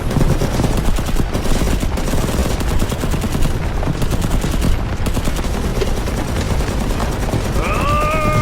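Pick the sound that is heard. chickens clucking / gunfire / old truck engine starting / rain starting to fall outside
gunfire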